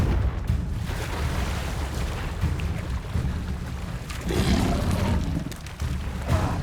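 Deep, rumbling blast of a Confringo fire spell in Hogwarts Legacy, a sustained roaring explosion that swells midway, loud and close with a low booming body and no voices.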